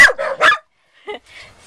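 A dog barks twice in quick succession close by, then gives a softer, shorter bark and a faint trailing yip after a pause.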